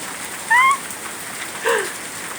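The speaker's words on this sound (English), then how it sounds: "It's a mild downpour." A mild spring downpour patters as a steady hiss of rain, with two short tonal chirps or whistles rising briefly above it.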